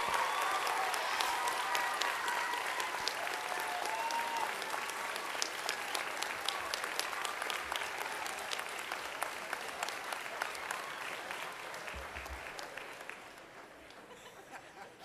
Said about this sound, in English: Applaud yourselves, applaud your spirits, applaud your dreams.